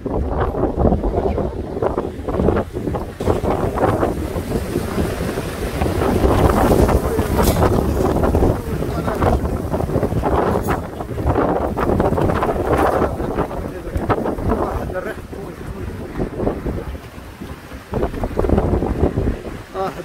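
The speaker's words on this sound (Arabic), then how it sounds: "غادي نقول الريح قوي" Strong stormy wind at Al Hoceima on a day of heavy rain, roaring and buffeting the microphone in loud gusts that rise and fall, with sea noise beneath and a voice faintly in the mix.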